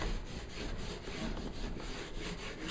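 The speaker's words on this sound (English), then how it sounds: "working the piece in, and again smoothing it out, getting it into that ridge there" Saddlebag liner piece for a Victory motorcycle being smoothed and worked into the ridge of a lid, giving a steady, close rubbing and scraping with soft repeated strokes and no talk.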